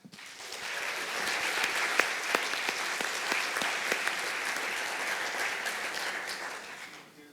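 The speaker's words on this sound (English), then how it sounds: "A warm applause for Nico van Stralen, please" An audience at a debate evening applauds warmly, dense steady clapping that swells quickly and holds for several seconds before fading.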